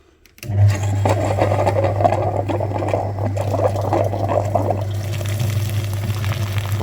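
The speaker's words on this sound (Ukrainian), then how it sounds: "Зробили підключення на сам радіатор пічки і почистили фільтр, вмикаємо апарат." Coolant flushing machine switched on to pump fluid through the heater core of a 2.0 TDI VW Passat B7, starting abruptly with a steady electric hum and a sloshing, gurgling liquid rush close by.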